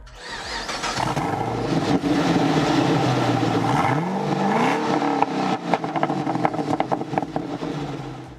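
An HSV GTS with a 6.2-litre supercharged V8 starts and is revved several times, loud and close, the engine note rising and falling with sharp blips toward the end.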